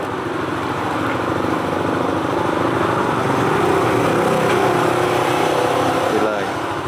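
Honda CBR motorcycle engine starting and idling steadily at close range, a continuous even rumble throughout with faint voices in the background.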